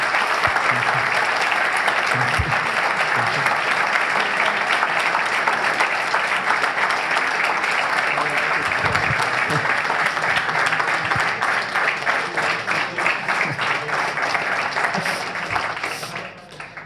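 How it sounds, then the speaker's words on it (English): A large audience applauds continuously, a dense, steady wash of clapping that carries on for a long stretch before tapering off at the end. "This clapping was enough."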